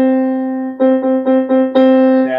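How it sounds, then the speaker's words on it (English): A piano plays a low C with a sustained opening tone, then the same note is struck again several times in quick, even succession, close and clear with no talking. "Can you find a low C for me? And it should sound like this."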